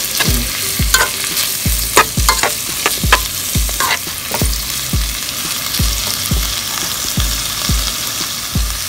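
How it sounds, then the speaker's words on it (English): Collard greens stirred into a sizzling pot of Galician white bean soup, steady frying hiss under rhythmic scraping strokes of a spoon against the pot, loud and close, no voices. "I'm going to add a little bit more collard greens."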